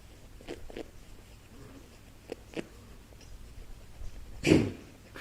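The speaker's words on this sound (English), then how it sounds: "It's actually them breathing out of their nose." A wombat snorts air out through its nose in a short sneeze-like burst near the end, with a few faint earlier puffs and scratchy snuffles at close range and no talking.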